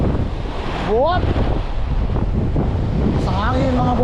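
Wind buffets the microphone in a constant roar with surf-like noise behind it at Pao beach in Burgos, Pangasinan, while a few voices speak briefly over the top.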